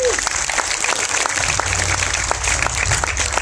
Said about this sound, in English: I ask you to all give yourself applause for that.